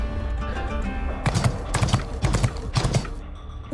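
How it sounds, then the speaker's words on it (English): Metallic hooves of a mechanical horse gallop in the NIKKE video game, a run of quick clattering clip-clop bursts over a low background bed, with no talk. "What is that? Sounds like horse hooves."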